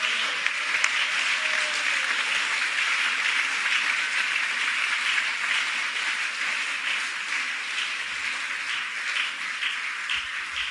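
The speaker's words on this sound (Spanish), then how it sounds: "Dele un aplauso al Señor." Steady congregational applause fills a church service, dense and sustained for several seconds without any voices over it.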